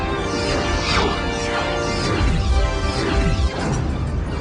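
Sci-fi weapons fire strikes a starship's shield in a run of loud crashing impacts with whooshing, metallic sweeps, dense and continuous with no voices.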